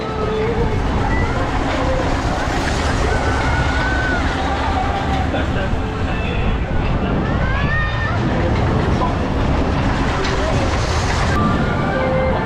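A kids' urban train ride at the Theevuthidal Island exhibition amusement fair, rolling along with a steady mechanical rumble amid loud fairground hubbub and crowd babble throughout.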